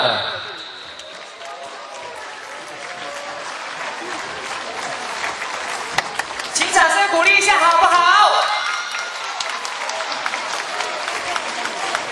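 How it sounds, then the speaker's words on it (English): An indoor audience applauds steadily for a winner at a prize ceremony of an international abacus mental arithmetic olympiad in Singapore. The clapping swells briefly partway through, with a host's voice heard over it. "let's give the winner a round of applause"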